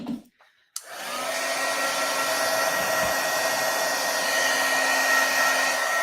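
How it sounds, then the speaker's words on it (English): A heat tool blows a steady, loud whooshing roar that starts abruptly after a brief knock and runs unbroken to the end, with no talking. "Letting my heat tool heat up a little."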